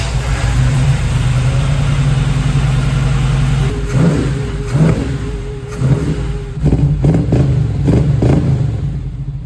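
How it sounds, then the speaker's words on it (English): A project truck engine runs loud and steady, its clutch fan clanging and clattering in irregular bursts over the drone of the motor, with a few rev changes partway through. "That was just that clutch fan I was telling you about."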